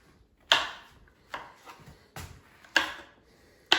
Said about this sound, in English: the first step is to chop the mushrooms into pieces